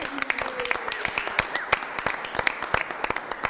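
A crowd claps steadily, with dense overlapping hand claps and sharper individual smacks, with a faint voice in the background.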